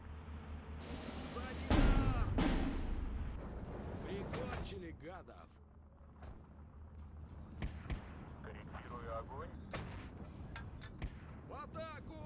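Mortar rounds thump and boom in a Steel Division 2 battle, several sharp blasts among scattered smaller impacts and crackling gunfire, mid-distance under a soft backdrop.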